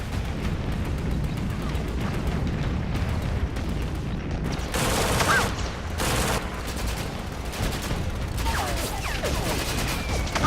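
Dense battlefield gunfire and grenade blasts from a World War II combat scene at a harbour jetty landing, with rapid volleys of shots and heavy bursts rolling continuously over a low rumble.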